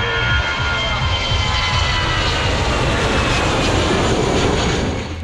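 A loud, steady airplane engine roar beside the runway at Kualanamu Airport, a broad continuous rumble and whine from an aircraft close by.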